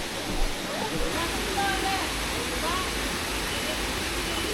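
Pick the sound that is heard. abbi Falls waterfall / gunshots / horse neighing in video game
abbi Falls waterfall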